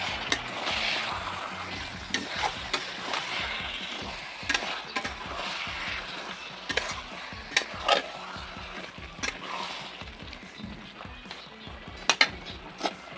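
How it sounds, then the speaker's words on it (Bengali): Chicken coated in ground onion, ginger and tomato paste fries in a kadai wok with a soft sizzle, punctuated by sharp clinks and scrapes as a spoon stirs it, close by, with no talking. "দেখো মাংস কষানো হচ্ছে।"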